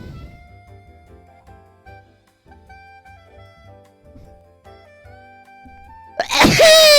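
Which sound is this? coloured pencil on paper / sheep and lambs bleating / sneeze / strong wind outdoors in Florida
sneeze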